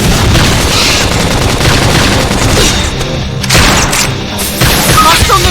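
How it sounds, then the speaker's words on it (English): A flame grenade goes off in Xenoblade Chronicles X amid loud, dense combat noise, with booming blasts and rapid fire bursts while voices speak over the battle. "Flame grenade!"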